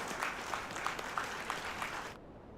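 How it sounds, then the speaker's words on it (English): A standing ovation for the chief guest at a live industry event: faint, distant applause with a crowd clapping steadily before it cuts off near the end. "One a big round of applause for sir."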